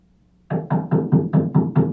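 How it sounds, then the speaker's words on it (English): Knocking on a door in a radio drama, seven evenly spaced firm raps starting after a half second of near silence, close and loud with no voices. "Did you hear a knock?"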